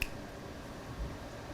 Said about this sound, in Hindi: चुटकी बजाऊंगा